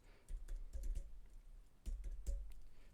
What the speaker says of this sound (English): we're doing a whole lot of typing